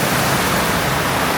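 Heavy rain pours steadily in Siem Reap, Cambodia, a dense, loud, unbroken hiss with no pauses or voices.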